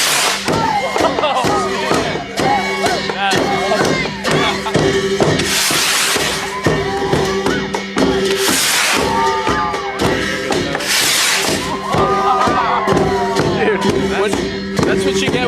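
Prayer rockets are lit at a Buddhist festival in Gansu, China, bringing repeated whooshing hisses and thuds over a dense, noisy crowd with shouting and cheering throughout.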